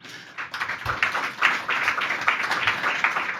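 Audience at a public round table on financing, innovation and training for mass housing renovation in Rennes applauds, a steady mid-level patter of many hands clapping for a few seconds with no talk.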